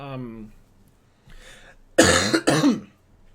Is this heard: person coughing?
yes